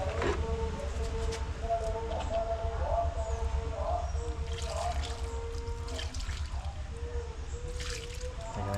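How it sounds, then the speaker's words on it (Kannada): Water poured onto a potted money plant, a steady splashing trickle running for several seconds over a constant low background hum, fairly close. "ಸ್ವಲ್ಪ ನೀರು ಹಾಕೋಣ."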